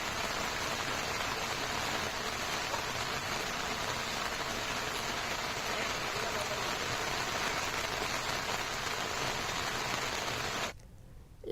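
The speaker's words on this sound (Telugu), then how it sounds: "ఏకదాటిగా వాన పడుతుంది." Heavy rain pours down across Hyderabad in a dense, unbroken hiss that holds steady for over ten seconds, then cuts off abruptly near the end.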